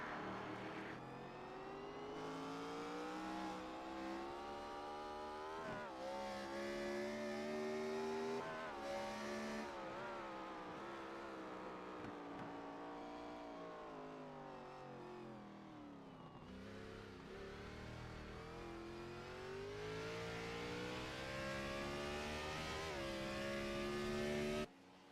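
An onboard race car engine in the iRacing simulator at Barber: a loud, steady, close howl that rises and falls through the gears and under braking for nearly half a minute, with no talking over it.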